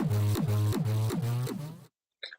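Kick drum run through effects, sounding as a loud repeating booming pitched thump with a buzzy, smeared tail, about five hits in a steady pulse before cutting to near silence and a faint brief blip.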